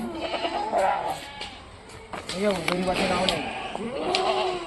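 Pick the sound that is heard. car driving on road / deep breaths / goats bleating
goats bleating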